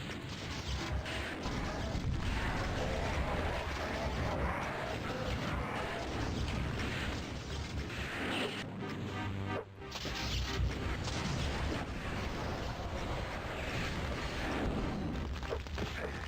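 Cyberdemon rockets blasting and crashing in Final Doom's Plutonia Experiment, a loud, continuous barrage of booming impacts and mechanical clatter with one brief dropout midway, no voices present.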